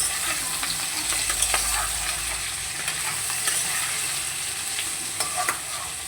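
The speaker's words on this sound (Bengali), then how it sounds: "একটু হলুদ গুঁড়ো দিয়ে দিলাম, ভালো করে মিশিয়ে নেব" Food sizzles steadily in a hot pan as turmeric and salt are stirred in, with close scraping and clinking of the spoon over a constant frying hiss, and no voices.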